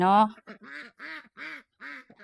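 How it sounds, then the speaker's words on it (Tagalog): Ducks quack repeatedly in a quick, uneven series of nasal calls, close and fairly loud, with no other sounds around them. "Naririnig niya na yung mga bibe"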